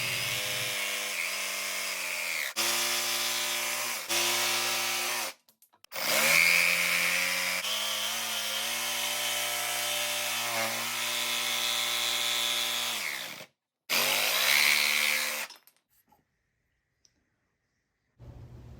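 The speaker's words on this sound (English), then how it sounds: "Even with the thick 1-inch material, this jigsaw made quick work out of the cuts." A jigsaw cuts thick 1-inch wood in long buzzing bursts, close and loud, with short pauses between cuts and a final stop near the end.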